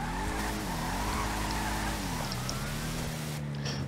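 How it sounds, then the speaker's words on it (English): Bravado Gauntlet Classic muscle car in GTA 5 spinning its rear wheels, a steady engine roar with wavering tire squeal running continuously throughout, close and loud, with no talking. "this thing is literally just spinning on its rear wheels"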